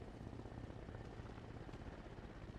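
Helicopter in the video game Arma Reforger, a fairly quiet continuous rotor thump and engine rumble, steady for the whole short stretch without voices.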